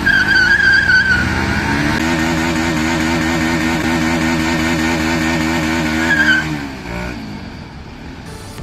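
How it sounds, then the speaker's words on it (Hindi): Motorcycle burnout with the rear tyre spinning on the spot: a loud, sustained engine roar with high tyre squeal and skidding, easing off near the end, no talk. "फाइनली गाइस बहुत सारा बर्नआउट मारा मैंने, बट टायर फटने का नाम नहीं ले रहा"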